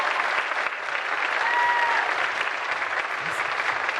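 Sustained applause from a sizable crowd at a school winter concert, steady and even throughout, a dense wash of clapping without pauses.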